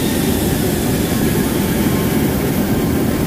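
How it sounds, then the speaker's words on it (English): An aeroplane drones steadily and loudly for a few seconds, a dense, continuous roar of engine noise with no breaks and no voices. "This is a aeroplane."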